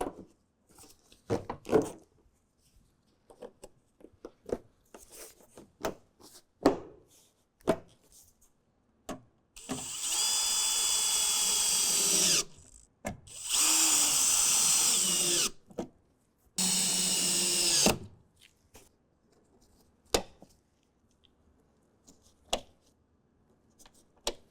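A power drill drives fasteners to reinstall a step tread in a 2024 Ford Transit van. There are three firm whirring bursts of a few seconds each, separated by quiet gaps with scattered clicks and handling knocks.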